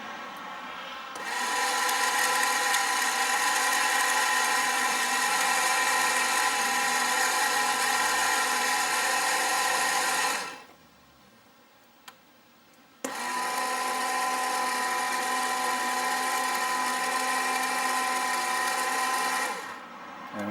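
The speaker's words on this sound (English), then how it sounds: "we've now got the new turntable in, and it is much better. It's still noisy" A small electric motor of a model railway turntable whirs loudly and steadily for several seconds, stops briefly with a faint click, then starts again with the same high-pitched hum.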